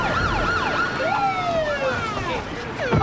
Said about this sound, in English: Maybe you get the sirens turned up so people in Pittsburgh didn't hear you coming.